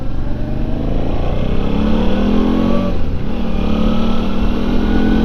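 A motorcycle with newly replaced fork seals and head bearings rides along, its engine loud and close with a steady drone and rising and falling revs as it accelerates.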